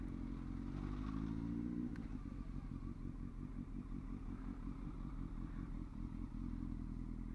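A Honda Hornet CB900 motorcycle engine putters along steadily and low with a rapid rhythmic rumble, a brief rise in pitch early on, and faint rattles over it.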